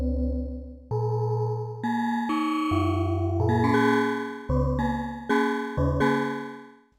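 Korg microKORG synthesizer plays an almost bell-like patch, a series of bright sustained notes struck one after another, each with a sharp onset and ringing harmonic decay, loud and alone without talk.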